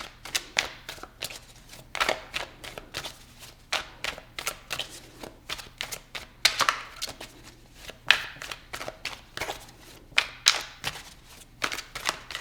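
Tarot cards being shuffled by hand, a steady run of crisp riffling bursts and soft slaps repeating close to the microphone, with no talking.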